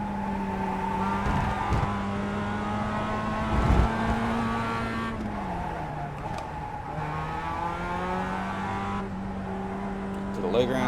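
A race car engine in the iRacing sim game accelerates and revs, its steady tone climbing in pitch with brief gear-change dips, loud and continuous, with a voice talking over it.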